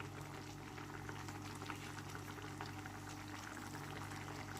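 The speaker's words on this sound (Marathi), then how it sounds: "चांगले उकळी आले." A pot of curd and ladyfinger (dahi bhindi) curry boils steadily on a stove, giving a continuous close bubbling simmer that stays even for the whole stretch, with a slight bump at the very end.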